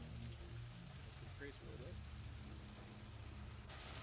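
Steady rain from a fast-moving storm hisses continuously on surfaces, a faint, even wash of drops that stays constant throughout, with a low rumble beneath and a brief faint voice partway through.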